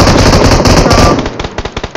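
Rapid gunfire from a BGMI battle royale match, including AWM sniper rifle shots, crackles loudly and densely before breaking into a run of separate sharp cracks.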